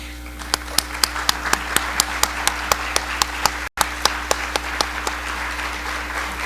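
Audience applause at a USDA Pride observance event, a small group's steady, evenly spaced clapping over background hum, with one very short dropout midway.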